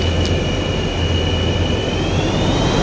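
An F/A-18E jet engine in a flight simulator roars steadily during takeoff, a broad rushing noise with a thin rising whine layered on top, loud and continuous with no voices.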